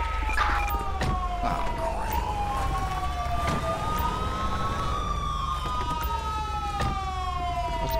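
An ambulance siren in the GTA police mod LSPDFR, in Sandy Shores, wails with rising and falling tones, accompanied by a low engine rumble and scattered thumps, fairly distant and steady throughout.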